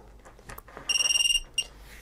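A small drone buzzer on a Mobula7 HD gives a rapid burst of shrill beeps, then one short chirp, close by after a few faint handling clicks.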